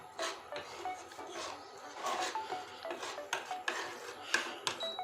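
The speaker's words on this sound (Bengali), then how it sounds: "এখন আমি চামচ দিয়ে নেড়ে নিচ্ছি" Metal spoon stirring sugar caramel in a pan, a steady run of scraping, rasping strokes with light clinks against the metal, close and moderately loud, with no talk.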